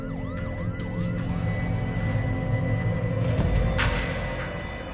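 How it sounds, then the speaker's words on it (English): An ambulance siren wails in rising and falling sweeps amid loud engine rumble and traffic noise during the 1991 Gulf War, with the siren fading under the din. "One of these ambulances has to go up there."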